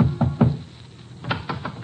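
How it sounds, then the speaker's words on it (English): Knuckles rap on a familiar door at an elementary school district home: a quick pair of knocks, a pause, then a second burst of three, close and clear without talk. "he knocks on a familiar door."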